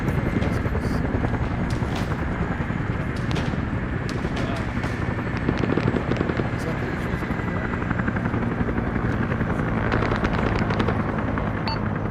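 A helicopter hovers in Arma 3, its rotor and engine a loud, continuous thrumming drone that fills the scene, with voices talking over it.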